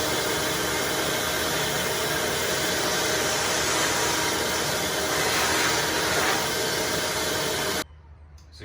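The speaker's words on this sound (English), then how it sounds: "vacuum, here we go." A Ridgid 16-gallon stainless steel shop vac runs with a loud, steady roar while sucking up a pile of sawdust, then cuts off abruptly near the end, leaving a faint hum.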